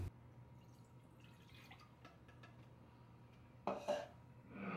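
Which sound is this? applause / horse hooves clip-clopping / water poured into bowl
water poured into bowl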